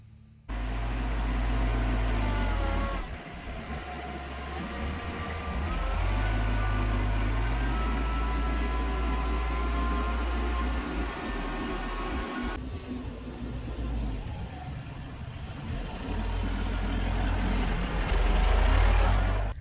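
A tractor engine runs continuously at a farm chicken yard, a loud, steady low rumble that rises and falls slightly in pitch as it revs and idles, with no talk.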